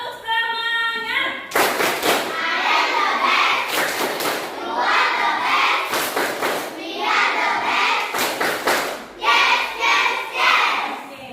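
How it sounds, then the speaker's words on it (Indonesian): A class of schoolchildren performs a rhythmic chant-and-clap routine in a classroom, loud bursts of synchronized claps and thumps alternating with the kids' chanting voices. "Ayo, sekarang kita tepuk semangat dulu."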